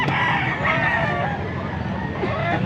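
Young rooster, a seven-month-old stag, crowing at a chicken market in Angeles City, Pampanga, a drawn-out strained crow heard amid busy market background noise.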